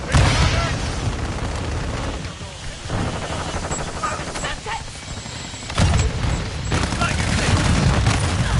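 A Semtex grenade detonates in the Modern Warfare 2 video game, a loud booming blast layered over dense rolling gunfire and rumbling explosions that continue throughout the stretch.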